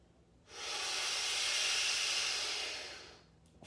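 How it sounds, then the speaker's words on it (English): One long, deep breath drawn in through the chest and let out again, a steady airy hiss that swells for about two and a half seconds and then fades, close to the microphone with no talking. "the chest breath looks like this."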